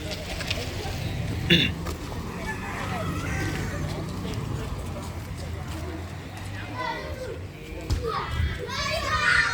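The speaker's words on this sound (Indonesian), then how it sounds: "Ini ada anak-anak main bola di dalamnya." Children play football in the traditional village of Huta Sialagan by Lake Toba. Their shouts and chatter carry on as a steady outdoor din, and a rooster crows faintly in the distance.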